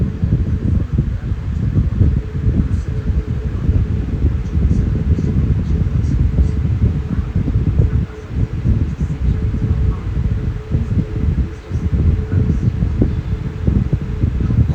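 A 1997 Lakewood 12-inch high velocity electric fan runs steadily and close by, a constant low whooshing hum of moving air with slight fluctuations throughout.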